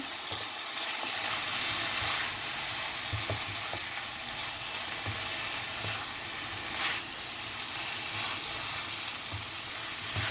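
Chicken and vegetables being stirred in a hot pan, seasoned with lemon juice, give a steady close sizzle throughout with a few soft scraping clicks from the stirring.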